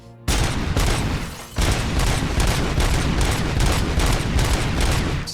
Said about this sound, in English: Just gonna shoot up the bank a bit more.